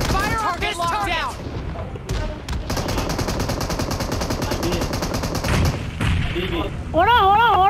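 Gunfire during a PUBG Mobile match, with dense bursts of shots running almost continuously under ongoing voices and game sound, loud and close throughout.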